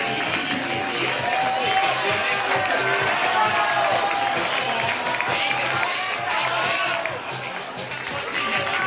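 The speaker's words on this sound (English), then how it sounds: "The crowd are giving it some." A crowd at a bouldering competition final cheers and shouts continuously, a dense, loud roar of many voices with scattered claps, holding steady throughout and dipping slightly near the end.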